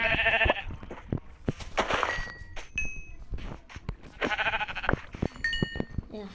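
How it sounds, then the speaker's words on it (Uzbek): Sheep in the game Minecraft bleat twice, one call at the start and another a few seconds later, with soft game footsteps and thuds in between. "Orqada yana bitta qo'y bor ekan"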